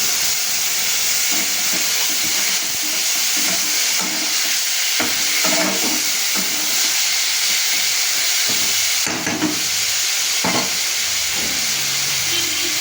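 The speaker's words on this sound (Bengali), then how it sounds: "এবার আমি বেটে রাখা মশলাটা আলুর মধ্যে দিয়ে দিচ্ছি।" Ground spice paste hits partly fried potatoes and drumsticks in a hot pan, setting off a loud hissing, steamy sizzle with repeated scraping stirs and clatters throughout, no voices.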